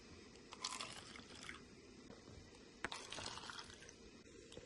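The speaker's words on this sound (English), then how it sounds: "Now that we measure 100 milliliters, we'll pour it into 3." White vinegar is poured into a cup in a faint, brief liquid trickle with a few splashy drips, close but quiet against a hissy background.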